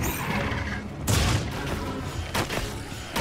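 Gunfire from a hunter's weapon while fighting a Balahara in Monster Hunter Wilds: a few loud, booming shots with sharp onsets, spaced irregularly over a few seconds, each trailing into a short rumble.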